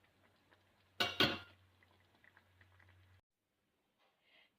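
Metal spoon scraping and clinking in a pan of thick orange skin chutney, a short loud burst of stirring clatter near the start, then faint quiet scraping before silence.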